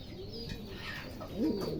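Oriental frill pigeons coo, the male calling with a soft, low burbling coo that swells near the end of a short stretch, close by in a quiet loft.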